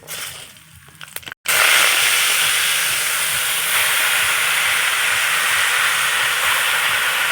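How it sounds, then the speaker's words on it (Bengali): Green chilies and mustard seeds hit hot oil for tempering, and after a quiet start a sudden loud, continuous sizzling hiss bursts out and holds steady, close by, with no talking. "তেল আর এখানে ফোড়নের জন্য দেখো কাঁচা লঙ্কা আর সর্ষা দিয়ে দেবো"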